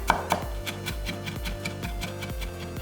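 A knife finely mincing whole garlic cloves on a cutting board for a Korean canned saury tofu stew, producing quick, light, evenly spaced chopping taps close by and fairly quiet.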